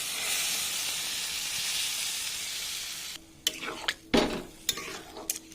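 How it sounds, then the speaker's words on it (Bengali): Spices sizzle loudly in hot oil for egg tarka for about three seconds, then the sizzle drops away and a few distinct scrapes and clinks of stirring follow, close by and with no voices. "এবার আমি একসাথে ভালো করে কষিয়ে নেবো সব কিছু।"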